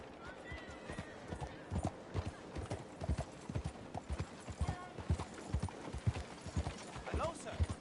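A horse in Red Dead Redemption 2 gallops with a steady stream of quick, punchy hoofbeats that grow stronger midway, while someone talks over the running hooves.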